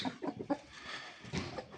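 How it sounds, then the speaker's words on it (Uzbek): A one-eyed Grach fighting rooster clucks in a few short, close bursts with no voices. "Grach xo'roz."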